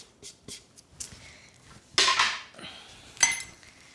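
Samosa stuffing being stirred in a bowl with a utensil, giving scattered clinks and scrapes against the bowl, with a louder burst of scraping midway and another sharp clatter near the end, close up with no talking.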